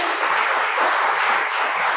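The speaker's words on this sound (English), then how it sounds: "A round of applause to our panelists." Audience applause for a panel of speakers at a civic forum on voting-rights language access, a dense steady wash of many hands clapping that stays loud and continuous throughout, with no voices.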